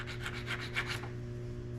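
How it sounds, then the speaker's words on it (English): Sandpaper rubbing in quick strokes against the inside of a Mokume Gane ring, a steady series of close scratchy passes over a constant low motor hum, then fading to just the hum. "Alright, so I'm just going to keep sanding this down."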